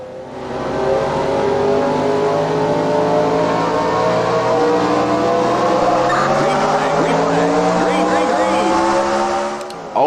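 Race cars in NASCAR Racing 2003 at the Texas 500 start roar hard off the line, a loud, continuous engine drone whose pitch climbs steadily as the pack accelerates.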